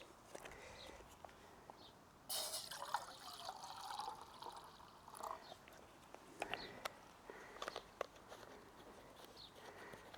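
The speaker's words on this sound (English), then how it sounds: "and then we'll put some water in as well." Water trickles and splashes faintly into a mug set on an X-Boil ultralight camping stove outdoors, a quiet pour with small knocks and clinks scattered through it.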